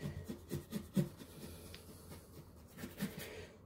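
A paintbrush scrubs white and blue acrylic paint onto canvas, making soft, close, rhythmic rubbing strokes that are faint and alone.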